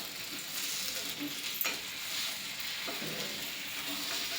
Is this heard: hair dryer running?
no